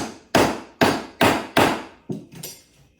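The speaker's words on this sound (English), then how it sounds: "the zinc just bent into place with the hammer" A hammer strikes a piece of zinc five times at an even pace, each blow a sharp, ringing crack, followed by a couple of softer, lighter taps.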